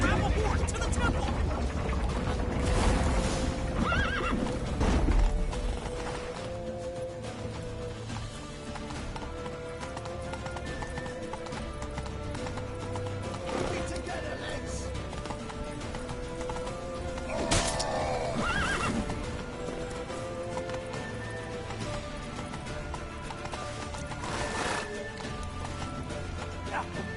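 Horses neighing and whinnying amid galloping hoofbeats in The Witcher 3 video game, several loud whinnies over a continuous rumble of hooves and chaotic action, with voices shouting at points.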